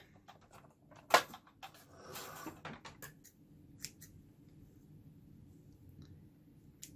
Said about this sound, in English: Clip the excess thread.